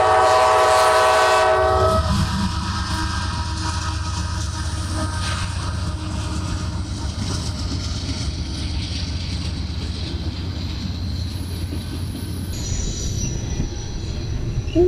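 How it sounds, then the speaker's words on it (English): A long train rumbles past close by, with a horn blast at the start, steady heavy wheel roar and clatter, and high squealing wheels throughout. "train's coming, so it's going to get dumb loud in a second"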